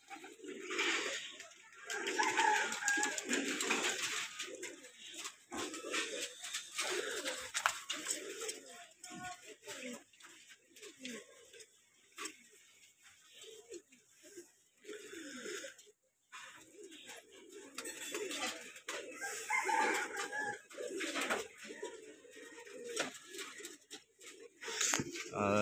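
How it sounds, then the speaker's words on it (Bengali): Racing and colored pigeons resting in a home loft, cooing repeatedly in a close, busy chorus while someone talks over them throughout. "এইখানে আছে আমার বাসার একবারে ডাইরেক্ট মেন কবুতরগুলো রেস্টে"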